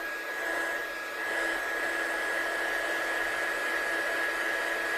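A heat tool blows hot air onto vellum in a steady, close whoosh with a high constant whine, running continuously without talk.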